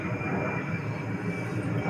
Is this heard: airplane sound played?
yes